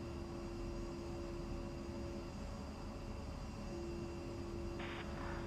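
A steady engine roar and whine from an A-10C jet lining up to take off in the flight sim DCS World, continuous and even with a sustained tonal hum and no speech.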